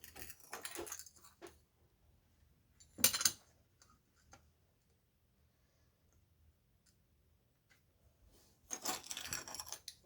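Pieces of glass are set down on fiber paper for kiln slumping, giving bursts of light clinks and taps at the start, near three seconds and again toward the end, with near silence between.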